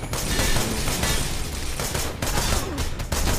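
Gunfire in the VR shooter Wanted Dead comes as a dense, loud rattle of rapid shots and impacts filling the moment close up, with no talking.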